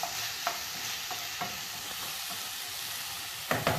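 Onions cooking in a pot for a brown beef stew give a steady, close sizzle and hiss, with a few soft stirring knocks and clinks scattered through it and a louder scrape near the end.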